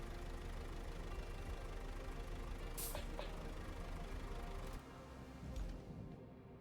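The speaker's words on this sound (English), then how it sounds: "you cannot turn off the engines, so you have to listen to the entire rattle all time long" A vehicle engine in the Road Craft game rattles and idles continuously, a steady close knocking rumble with a couple of brief higher clicks, easing slightly near the end, no voices.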